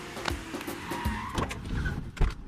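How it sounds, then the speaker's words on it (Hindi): Two Sumo vehicles pulling up close by, giving a brief burst of engine rumble with a whirring, window-like hum and a few dull thumps, with no speech. "गाड़ी की आवाज आ रही है।"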